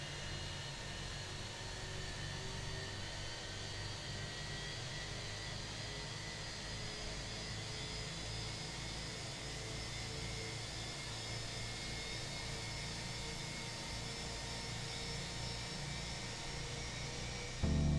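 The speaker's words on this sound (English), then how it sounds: "I'll just shut up for a couple of seconds so you can really hear those IAE engines spooling up." IAE engines on a Fenix A321 in a flight simulator spool up, giving a steady, even whine and roar that holds for the whole stretch with no talking.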